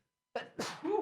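A single close sneeze bursts out after a brief silence, a short sharp intake followed by the explosive release, fairly quiet overall.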